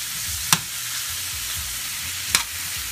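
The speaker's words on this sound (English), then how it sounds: "now I went ahead and just started the onions cooking" Onions frying in a pan with a soft, even sizzle and two sharp clicks of a utensil against the pan.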